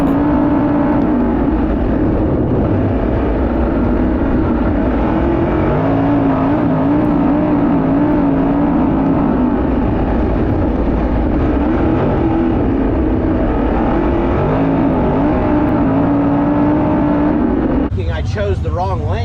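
850-horsepower 410 sprint cars racing on the Paragon Speedway dirt track, a loud continuous engine roar that rises and falls as cars lap, with a voice talking over it.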